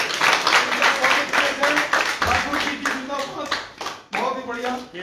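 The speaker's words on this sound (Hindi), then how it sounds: "और इनके जो फॉरेस्टर साहब जोरदार तालियों के साथ" Loud clapping from an audience at a political party headquarters welcome, dense and steady across the whole stretch, with a voice speaking over it.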